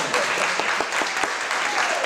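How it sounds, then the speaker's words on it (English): Brief round of audience applause at a New Bedford arts event, dense clapping from a small crowd with a few sharper individual claps, lasting about two seconds. "Please, round of applause for Josh McLaughlin."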